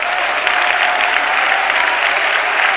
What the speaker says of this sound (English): Clap your hands and worship the Lord.